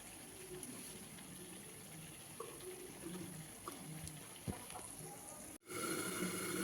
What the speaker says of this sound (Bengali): এবার ঢাকা দিয়ে ফুটতে দেবো।